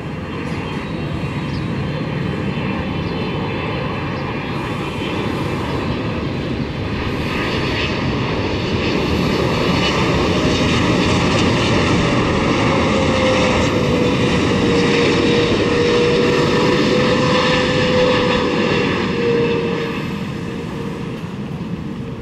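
An EVA Air Boeing 777-300ER lands at Tan Son Nhat airport on a hazy morning, its loud, steady jet engine roar sustained for the whole stretch with a rising whine near the end and no talking.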